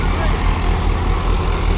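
Mahindra 575 and Sonalika tractor engines run at 1500 RPM in low gear, a loud, steady, low diesel rumble with a constant throbbing pulse close by.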